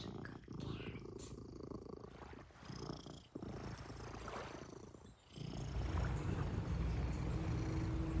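Domestic cat purring close by, a steady soft rumbling purr that continues throughout, growing fuller toward the end, with faint handling noise and no clear talk.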